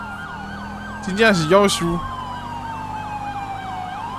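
A police car siren wails in GTA 5 with the LSPDFR police mod, rising and falling in steady cycles as the car flies past, loud and close, with a brief excited voice speaking over it partway through.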